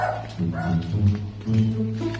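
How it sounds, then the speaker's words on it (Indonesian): A dog outdoors in the rain gives a run of yipping barks and whimpers, several short calls close by over a steady low background hum. "Ada anjing. Ada guguk, guys."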